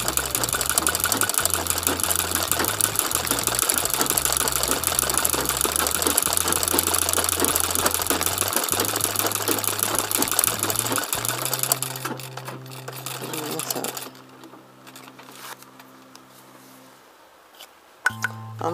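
Embroidery sewing machine stitching a bee and flower design with yellow bobbin thread, a loud, steady rapid mechanical chatter that runs continuously, then slows and thins out near the end as stitching stops.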